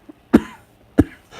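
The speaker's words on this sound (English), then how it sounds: "I apologize for the cough." Two sharp, close coughs about half a second apart, with a faint throat sound just before the first.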